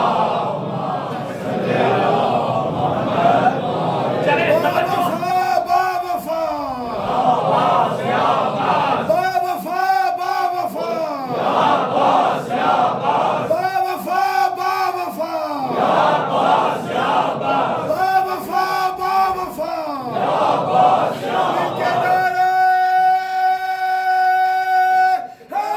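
A congregation at a Muharram majlis recites salawat together in loud, repeated collective chants, several surging waves of many voices with a sustained held tone near the end.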